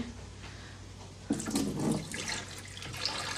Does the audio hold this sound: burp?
no